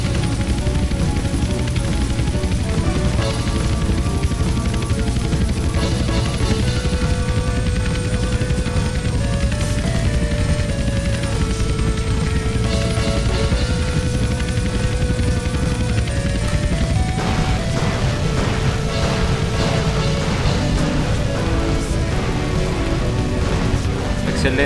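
Helicopter flying in Grand Theft Auto San Andreas, a loud steady rotor drone with shifting engine tones throughout, joined by crashing and rushing noise near the end, while a player talks.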